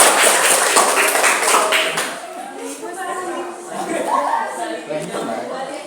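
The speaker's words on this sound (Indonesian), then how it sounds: "Tepuk tangan untuk kita semuanya." A group claps hands together in a classroom during a teaching performance assessment, a dense burst of applause that fades over several seconds while voices and chatter carry on beneath.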